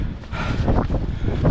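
Strong wind gusts on a hike along Hadrian's Wall at Walltown Crags, a loud, continuous low rumble buffeting the microphone with uneven surges and no voices.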